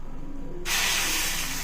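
Onion uttapam batter hitting a hot pan, with a quiet lead-in that breaks into a loud, steady broadband sizzle lasting to the end, nearby and alone without voices.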